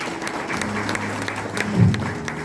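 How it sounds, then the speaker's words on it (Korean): Hearty audience applause at a national Korean civic assembly in a Seoul hall, a steady dense patter of many hands clapping at moderate loudness. "힘찬 박수 부탁드리겠습니다."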